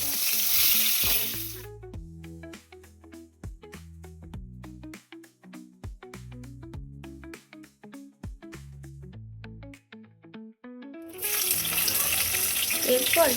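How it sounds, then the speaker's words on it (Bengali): Potatoes frying in oil in a kadai, heard as a bright, steady close sizzle with rapid crackling pops that calms briefly in the middle before surging back loud, with no talk. "এরপর কড়াইয়ে তেল দিয়ে আলুটাকে লাল করে ভেজে তুলে নেব"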